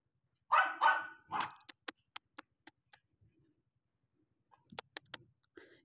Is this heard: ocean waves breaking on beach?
no